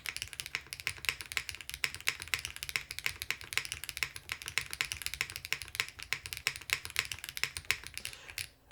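A foamless Evo75 mechanical keyboard with an FR4 plate is typed on continuously, producing close, sharp, clacky keystrokes in a quick steady stream for several seconds.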